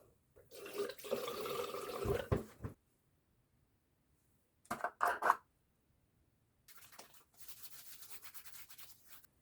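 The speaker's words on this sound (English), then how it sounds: "I'm gonna wet my face and we'll start the process." Tap water runs and splashes as hands wet a face before a shave, in three separate bursts of a few seconds each with quiet gaps between them and no voices.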